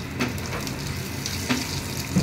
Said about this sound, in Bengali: একটু কালো জিরে দিয়ে দিলাম।